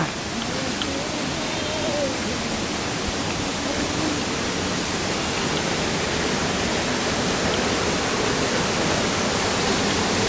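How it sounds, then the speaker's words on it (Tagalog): Steady, dense rush of water at Kawasan Falls, a smaller cascade pouring without pause, loud and close throughout with no breaks in the roar. "Another falls."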